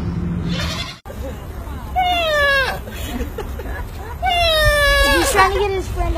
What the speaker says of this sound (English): It's the sneezing goat.